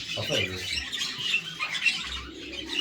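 A chick squawks and cheeps in a poultry coop, a cluster of shrill, close calls over a busy chirping background, with murmuring voices underneath.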